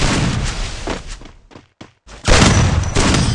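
M1887 shotgun fire in a video game rings out as loud, close blasts in dense bursts. A short near-silent gap breaks them up before another heavy volley erupts.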